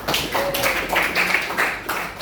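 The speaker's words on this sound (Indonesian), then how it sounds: "Kasih tepuk tangan ya." Students in a classroom clapping for a classmate's answer, a short, fairly close burst of scattered hand claps lasting about two seconds.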